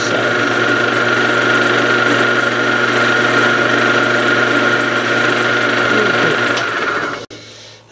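Wood lathe turning a mandrel-mounted piece while a skew chisel cuts: a loud, continuous motor hum with a steady tonal whine for about seven seconds, then a sudden drop as it stops.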